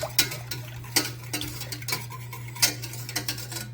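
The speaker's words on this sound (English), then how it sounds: "now that we've done that, we are going to whisk it in." A whisk clicks and scrapes against a bowl in quick, uneven strokes as pumpkin puree is beaten into a water mixture for pumpkin spice syrup, close and clear over a steady low hum.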